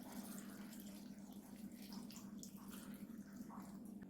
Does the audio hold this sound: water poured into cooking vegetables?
yes